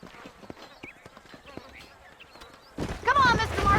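Horse hooves clip-clop in the Red Dead Redemption video game, a string of sharp rhythmic knocks under a voice, followed near the end by a louder burst of speech.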